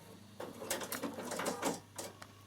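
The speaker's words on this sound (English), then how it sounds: "So I'm just going to do a stay stitch on this side as well in the same place." A Bernina sewing machine running a stay stitch, several short whirring bursts of needle action over a steady low motor hum, close and fairly quiet.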